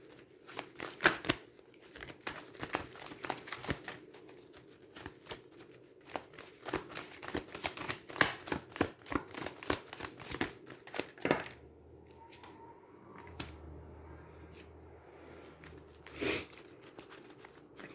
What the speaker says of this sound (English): We're going to go ahead and get out the rest of the cards here before we get into the reading.